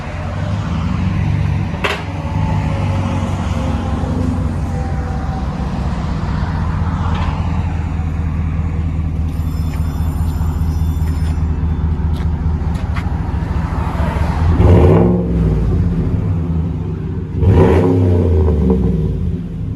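A GMC/Chevy 6.2L V8 with an aftermarket exhaust idles with a deep, loud, rumbling burble, then blips the throttle in two sharp revs near the end before settling back to idle.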